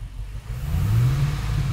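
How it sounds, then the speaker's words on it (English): Ford BA Falcon XR8 V8 with a failed injector driver and a cylinder 3 misfire, given a short rev: a close, deep engine note that rises and holds briefly with no talk. "And we'll give the engine a rev"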